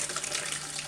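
Watermelon sorbet mixture pours steadily into a container, a continuous soft liquid splashing and gurgling, close and unbroken.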